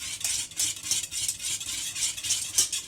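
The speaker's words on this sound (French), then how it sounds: "on va donc dissoudre tous les morceaux de beurre comme ça dans la crème à chaud." Butter pieces being stirred into hot cream for a lemon meringue tart filling, with repeated soft utensil scrapes against the pan and a faint sizzle, steady and close, with no voices.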